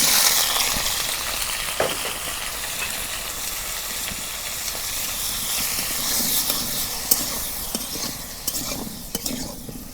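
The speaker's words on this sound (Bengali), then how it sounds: "কড়াই গরম হয়েছে, এখন আমি সরিষার তেল দিয়ে দিই। এই দেখো আলু নিছি, তেল গরম হয়েছে, এখন আলুগুলো দিয়ে দিই।" Potatoes frying in hot mustard oil in a wok, a loud steady sizzle and hiss with occasional stirring clicks and scrapes, close up and continuous.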